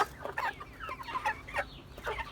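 Plymouth Rock chickens clucking close by in short, busy bursts, several birds calling over one another.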